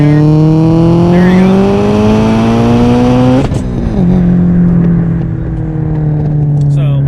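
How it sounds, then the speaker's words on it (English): Big turbo Subaru STI with swapped exhaust accelerating at full throttle, a loud, close engine roar rising steadily in pitch, a sharp shift break midway, then climbing again, with a voice speaking over it. "There you go, I'm flooring it."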